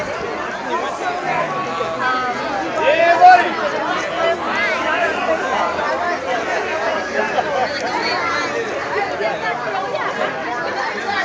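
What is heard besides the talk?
crowd chatter at a rally march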